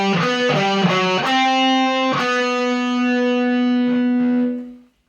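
A distorted electric guitar plays a shred riff, with several fast, punchy picked notes before a long chord rings out and fades.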